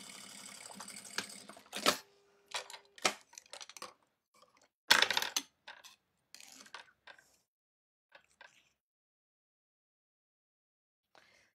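A domestic sewing machine stitching Santa Flex felt runs in a few short, sharp bursts with small clicks between and long quiet stretches after.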